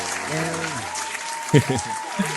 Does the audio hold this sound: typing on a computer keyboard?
no